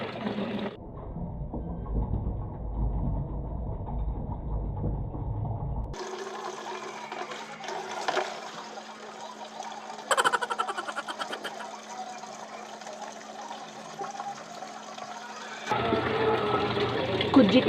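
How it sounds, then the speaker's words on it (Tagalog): Water runs from a faucet in a home morning routine, a hissing stream that starts and stops in several bursts with shifting tone, with some quiet speech and household handling sounds around it. "usara pa among gripo"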